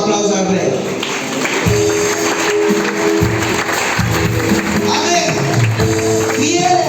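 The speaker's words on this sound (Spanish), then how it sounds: "¿Cuánto le da un aplauso al rey?" A church congregation applauds during a sermon, a dense wash of clapping that runs steadily throughout, mixed with voices and sustained music tones.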